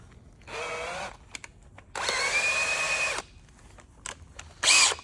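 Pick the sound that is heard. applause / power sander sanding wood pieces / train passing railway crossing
power sander sanding wood pieces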